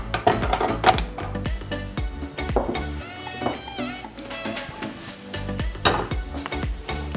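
Soaked okra drops into hot oil in a pan for a dhaba-style bhindi masala, giving a loud, steady sizzle with sharp crackles and pops and occasional utensil clinks, without voices.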